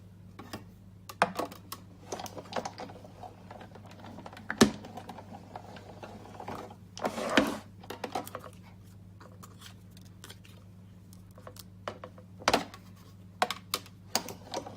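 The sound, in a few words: die-cutting framelits through patterned paper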